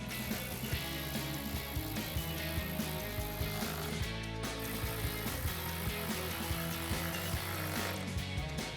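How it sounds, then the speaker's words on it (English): Ratchet tightening 10mm bolts on a 2021-2025 Ford Bronco LED projector headlight, a continuous series of rapid clicking strokes, close and steady over background music. "we can tighten them down with our ratchet"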